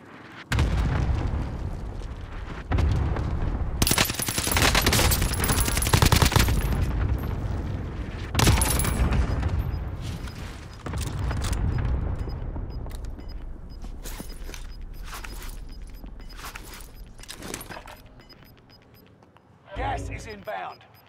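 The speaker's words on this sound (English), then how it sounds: "Airstrike, you are cleared hot. Got your request. Cluster strike is active." Cluster airstrike in the video game Call of Duty: Modern Warfare, a run of loud overlapping booming explosions rumbling for several seconds, then fading into scattered bursts, with radio voices speaking over parts of it.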